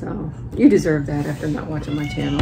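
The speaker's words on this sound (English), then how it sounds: "you can hear the cat back in the background" A cat meows and yowls in the background while someone talks over it, the cries faint and partly masked by her voice.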